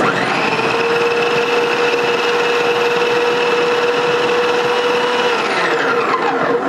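An electric mixer grinder with a chopper attachment whirs loud and steady as it chops vegetables at a single low speed, its motor tone holding constant before winding down at the end.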